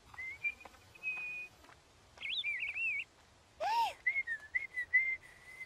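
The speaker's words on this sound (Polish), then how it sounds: "Dlaczego gwizdzesz? To taka rozmowa z ptaszkami." A person whistles short, bird-like tunes in several phrases with pauses between, clear and fairly close against a quiet outdoor background.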